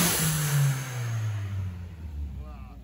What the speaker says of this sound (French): Bon, alors ce moteur, il tourne bien. Il tourne rond.